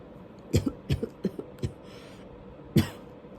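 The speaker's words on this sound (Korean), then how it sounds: "주인이 갑자기 기침을 터뜨렸다" Several sharp coughs in quick succession, a pause, then one final cough, close and fairly loud with no talking.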